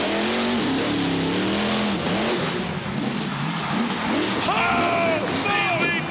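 Max D (Maximum Destruction) monster truck engine revving hard at a Monster Jam World Finals freestyle run, loud and continuous with rising and falling pitch, under excited commentary and crowd noise.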